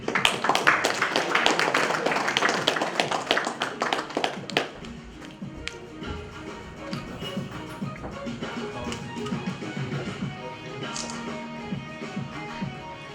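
Audience applause at an MMA weigh-in, a dense burst of clapping that starts loud and thins out into scattered claps over the following seconds, with no talk.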